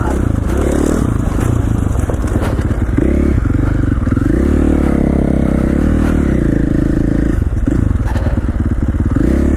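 KTM 450 XC-F dirt bike ridden through the snowy Owyhee Mountains of Idaho, its engine droning loud and steady throughout, with throttle swells and gear changes and clattering from the rough ground.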